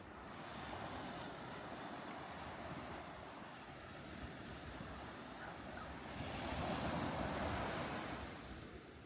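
Waves breaking on the beach at St Ives, a steady surging wash of surf with wind rushing over the microphone, swelling louder near the end, with no voices.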